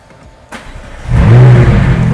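A supercar engine starts with a sharp catch, then roars and revs loudly up close, holding a strong steady growl afterward.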